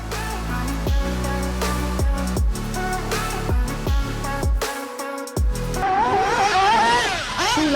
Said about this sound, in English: This Outcast 8S actually is handling this track beautifully.